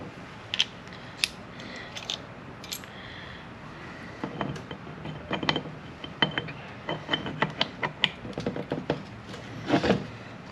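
Metallic clinks and scraping clatter of differential spider and side gears being handled during a BB7A recase, irregular taps and rattles close by, sparse at first then busier toward the end, with no talking.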